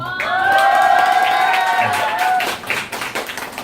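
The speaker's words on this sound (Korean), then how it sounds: "좀 박수 쳐주셔서 고맙습니다" Audience applause and cheering at a small solo concert, a steady crowd wash of clapping that thins out toward the end, with a singing or ringing tonal voice over it.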